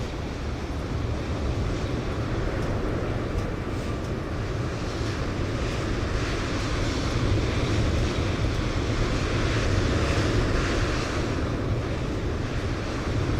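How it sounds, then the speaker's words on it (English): Simulated airport ambience at Atlanta in a flight simulator game: a loud, steady broadband rumble and roar like distant jet engines and wind, unbroken throughout with no voices. "They definitely added some airport noise in Atlanta, I can tell you that. It sounds like an airport."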